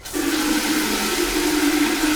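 Water rushes steadily from a newly installed shower during its first test run, a broad even hiss that starts abruptly and continues without pause, close and fairly loud.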